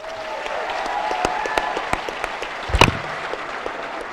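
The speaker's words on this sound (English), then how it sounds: "Please join me in a round of applause." Applause rises from the audience at a senior awards night, with a dense wash of clapping punctuated by several sharp, close hand claps and a brief louder burst near the middle.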